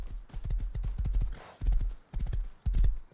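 Horse hooves clip-clop in a quick galloping rhythm in a video game, close and loud, with a short neigh in the middle and no talking over it.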